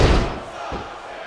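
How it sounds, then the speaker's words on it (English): A roaring arena crowd cheers in the wrestling video game Smackdown Vs Raw 2006, a dense, steady wash of noise that swells at the start and then holds at a loud level. "Now the fans start to cheer for him."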